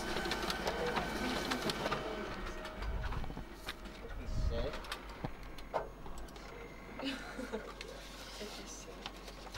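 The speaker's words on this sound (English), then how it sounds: "So you're using the color printer and we need it?" A color printer running in a school, a steady whirring mechanical hum with soft ticking and paper-feed patter under continuous talk from people nearby.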